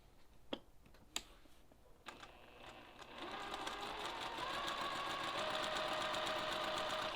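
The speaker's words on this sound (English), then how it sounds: "Now I'm going to sew from here straight down." A sewing machine stitches a straight quarter-inch seam joining 60-degree quilt diamonds. A few sharp clicks come first, then the motor hums up into a steady, close mechanical whir that runs on to the end.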